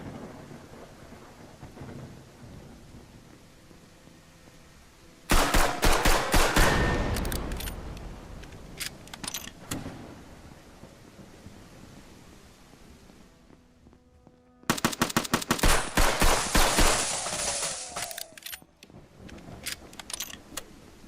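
Video game gunfire arrives in two sudden, loud bursts of rapid shots, each tailing off into crackling echoes against a low background rumble, with a quiet stretch between them and no voices.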